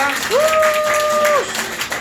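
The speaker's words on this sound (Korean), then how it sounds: "다시 한번 박수 부탁드리겠습니다" Guests at a first-birthday party, a Korean doljanchi, clap through a brief burst of lively applause. A sustained tone and voices sit over the clapping.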